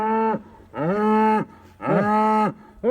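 Cattle moo three times outdoors, each a long, loud, close bellow with pauses between, and nothing else heard alongside.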